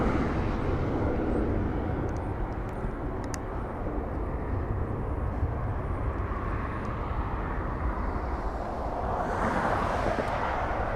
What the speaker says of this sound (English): Philippine Airlines taking off